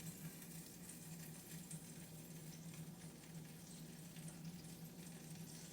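Chicken pieces in a coating sizzle and crackle in very hot oil in a pan, a steady, dense frying hiss with popping that runs unbroken from start to finish at close range.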